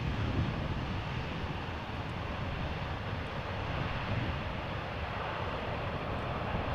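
An airliner lands on the Polderbaan runway at Amsterdam Schiphol Airport, a broad steady roar of jet engines and rushing air heard from a distance without a break, with no voices.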